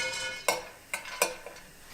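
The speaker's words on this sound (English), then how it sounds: "We're just going to put the pine nuts in the pan, turn the heat to high" Pine nuts toast in a dry skillet over high heat. Several sharp scraping stirs stand out over a faint background hiss, and nobody speaks.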